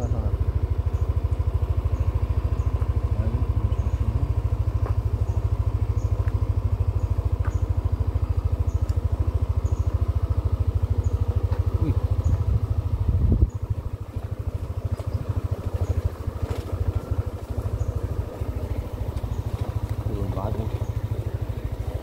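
Yamaha Aerox automatic scooter riding on hilly roads, its engine giving a steady low drone with clattering road noise that drops off partway through, heard under people talking.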